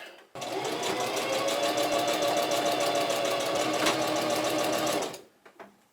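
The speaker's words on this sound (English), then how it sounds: "let's get sewing" A sewing machine stitches a seam on a homemade balaclava, a rapid, even mechanical whir with a steady needle rhythm running for about five seconds before stopping, followed by a few faint handling sounds.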